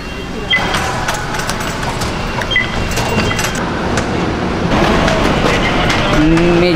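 Riding Manila's MRT commuter train: a loud, continuous rumble of carriage and rails fills the space, with rattling, squeals and a rising grind toward the end.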